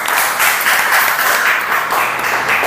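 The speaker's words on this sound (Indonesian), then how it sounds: "Tepuk tangan ya" Students in a classroom clap together for a few seconds, a dense, bright burst of many hands at close range, steady and loud with no talking over it.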